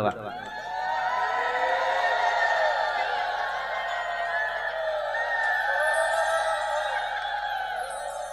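At a gathering, a crowd chants Hari bol and ululates in long, wavering, high-pitched cries from many voices, which rise right at the start and hold loud and steady throughout.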